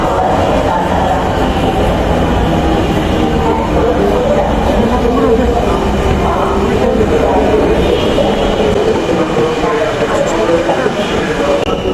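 A metro train pulls into an elevated station with a loud, continuous rumble and rail roar throughout, while people talk nearby.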